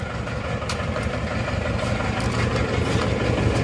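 An older-generation Isuzu Panther Touring turbo diesel without EGR runs rough nearby, a heavy, low, uneven clattering idle with a lumpy, irregular beat throughout.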